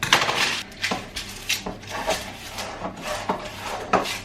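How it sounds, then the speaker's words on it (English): Scissors cut baking paper around a brownie tin in a home kitchen, a steady series of close rasping snips and rustles repeating about twice a second. "Cut around the tin like that"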